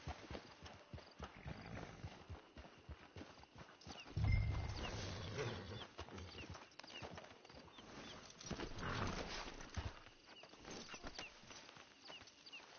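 Horse hooves clip-clop at a camp in Red Dead Redemption 2, a faint, uneven run of steps blended with a low ambient wash and occasional louder thuds.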